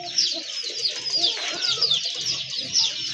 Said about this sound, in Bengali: এটা হচ্ছে দ্বিতীয় পেয়ার গোল্লা কবুতর।